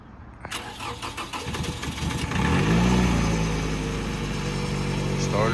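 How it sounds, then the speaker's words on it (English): 2007 Toyota Camry with a jump box hooked up, cranking briefly with rapid starter chugs before catching and settling into a loud, steady idle close by. "Started right up with a jump."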